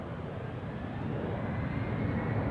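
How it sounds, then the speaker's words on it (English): KLM Embraer 190 jet, registration PH-EXB, bound for Aberdeen from Amsterdam Schiphol, gives a steady, broad engine roar at moderate distance, holding even and continuous with no voices over it. "This is the Embraer 190 to Aberdeen."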